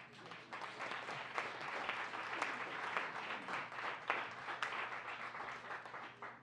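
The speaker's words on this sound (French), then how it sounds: "un applaudissement pour ça, s'il vous plaît" An audience at an evening event claps in a quiet, fairly distant round of applause, a steady patter of many hands that tapers slightly toward the end.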